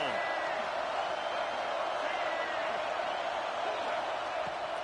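Steady, dense roar of a football stadium crowd at a Michigan vs Nebraska game, a continuous wash of cheering and noise with no breaks, loud and sustained throughout.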